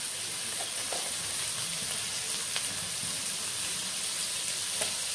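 Semiya egg pulao sizzling and frying in a pan, a steady close hiss of oil with small crackles and faint stirring scrapes, no voices.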